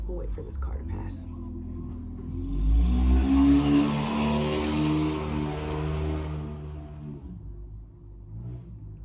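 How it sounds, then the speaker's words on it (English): A car passes close by on a street, its engine swelling to a rumbling peak in the middle and fading away, after a voice at the start. "We'll wait for this car to pass."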